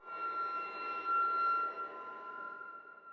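Eerie sustained string accent effect for horror or suspense scoring, a steady bright held tone over a dense, shimmering bed of bowed texture, moderately loud and continuous with slight swells, no voices.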